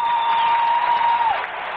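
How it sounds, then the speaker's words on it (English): A packed baseball crowd at Enron Field roars and applauds on its feet, a loud, steady wash of cheering heard from within the stands, with a faint whistle-like tone riding over it. "Listen to the crowd."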